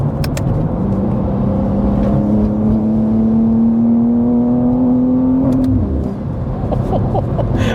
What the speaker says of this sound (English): I love those upshifts.